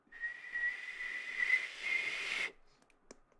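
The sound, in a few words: person whistling imitating a kettle whistle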